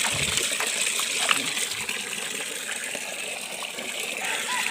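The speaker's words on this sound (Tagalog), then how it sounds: "Yan, dyan siya dumadaloy. Galing doon, sa bundok doon." Cold mountain spring water gushes strongly from a hillside source, a steady broadband rush of flowing water that stays loud and constant throughout, with faint background voices.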